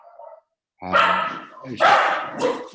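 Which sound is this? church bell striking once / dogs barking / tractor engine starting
dogs barking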